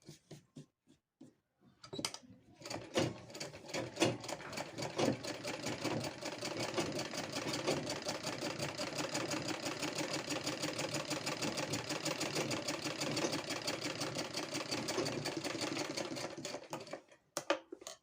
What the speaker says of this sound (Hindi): इधर से भी फोल्ड करके हम फिनिशिंग के लिए स्टिच कर देंगे।